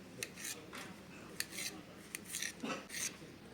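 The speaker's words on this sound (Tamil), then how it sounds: "வாங்க வாட்டர்மெலனை சின்ன சின்ன பீஸாக கட் பண்ணிக்கலாம்" A knife cuts peeled watermelon into small pieces, giving soft, irregular chopping taps and scraping clicks on a board, close and fairly quiet.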